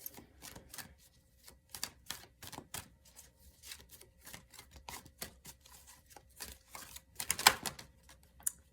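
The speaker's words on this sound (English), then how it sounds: "I'll go ahead and shuffle the cards and see what comes up first" Oracle cards being shuffled by hand, a quick run of soft papery riffs and flicks at close range with a sharper burst near the end, no voices.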